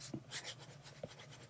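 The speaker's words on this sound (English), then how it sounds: "We're sketching in our sketchbooks." Pencil sketching in a sketchbook, with soft scratchy strokes in short bursts and a couple of light taps, close and quiet with no talking.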